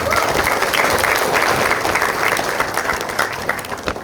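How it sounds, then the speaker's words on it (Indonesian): An indoor audience at an Indonesian public talk and book-signing event applauds seven people: steady, dense clapping that stays loud throughout, then eases slightly at the end. "Tepuk tangan buat mereka bertujuh."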